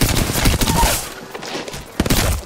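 Rapid bursts of gunfire in the shooter video game Apex Legends, loud and close, with dense overlapping shots and a sharp new volley near the end.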